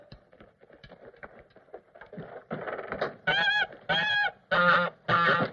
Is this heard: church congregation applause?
no